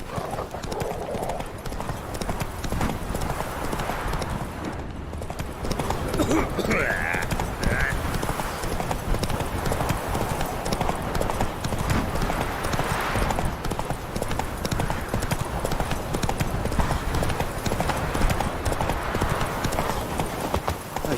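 Horse hooves pound in a continuous galloping rhythm in The Witcher 3 video game, loud and close, with a short whinny partway through and a voice speaking over the ride.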